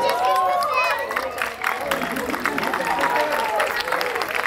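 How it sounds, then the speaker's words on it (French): A crowd applauds with dense clapping, mixed with cheers and excited voices throughout. "Est-ce qu'on peut l'applaudir, s'il vous plaît?"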